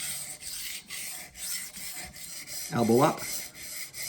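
A knife blade is sharpened on a whetstone in repeated close scraping strokes with brief gaps between them, and someone speaks briefly partway through over the grinding.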